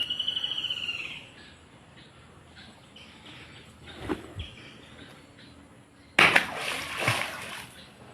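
A turtle is dropped into water, making a single sharp splash late in the clip. Faint birds and insects sound in the outdoor background beforehand.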